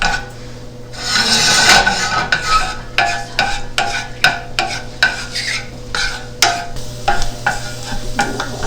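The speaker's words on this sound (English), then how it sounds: "And now I will add minced garlic. I saute this." Minced garlic sautes in a pan for a fenugreek and small round eggplant dish, with steady sizzling and repeated scraping strokes of a spoon stirring it, close and fairly loud throughout.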